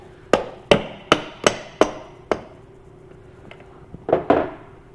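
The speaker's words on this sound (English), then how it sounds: "take a hammer and knock the piston into the bore" A hammer taps a piston into the cylinder bore of a Kohler Courage XT-7 small engine during a rebuild, six sharp evenly spaced metallic knocks, then a pause and a few quicker, softer taps, close and clear.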